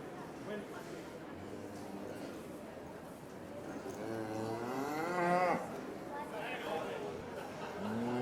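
Cattle moo at a beef cattle show, long drawn-out calls rising loudly over a steady crowd murmur and nearby chatter, with a second lowing call near the end.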